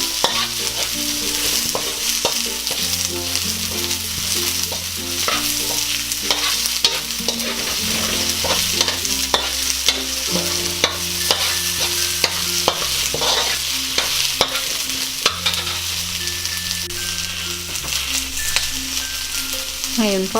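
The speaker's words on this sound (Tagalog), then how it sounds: "Haluin lang natin." Sliced onions sizzle and hiss in a frying pan while a utensil stirs them, producing repeated scraping knocks against the pan over constant frying crackle, with soft background music underneath.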